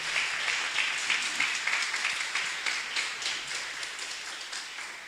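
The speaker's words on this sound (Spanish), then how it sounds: "Le podemos dar palmas al Rey de Reyes y Señor de Señores." A church congregation applauding, dense, steady clapping from many people in a room, fairly loud and sustained throughout without talk.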